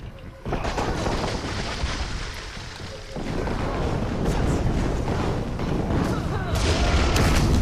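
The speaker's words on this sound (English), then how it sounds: "There's the meteor barrage there." A meteor barrage attack in the video game Kingdoms of Amalur hits as a dense, loud rumble of explosive booms and crashes, sustained throughout the clip.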